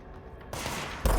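An enemy fires a gun in the action game Control: after a quiet moment, two loud bursts of rapid gunfire hit close, the second heavier and still going at the end.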